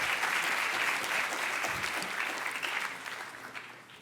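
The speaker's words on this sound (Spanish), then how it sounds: "démosle la bienvenida a Carlos Oliva con un fuerte aplauso" Audience at a university macroeconomics talk giving a warm round of applause to welcome a guest speaker, continuous crisp clapping that gradually fades toward the end.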